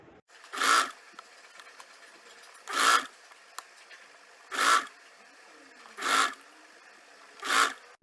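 A sewing machine stitches a stand collar from the back centre notch toward the front placket, running in five short bursts of about half a second each. The bursts come at regular intervals, with quiet pauses between them and no talk.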